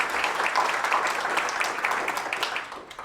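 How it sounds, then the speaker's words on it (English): Moderate audience applause for award finalists at a business impact awards event, continuous scattered clapping at middle distance with a faint voice underneath. "let's give one more round of applause for Susan and our other finalists"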